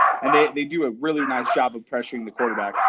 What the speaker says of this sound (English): I'm sorry about the damn dogs, guys. All right. Got the little chihuahuas.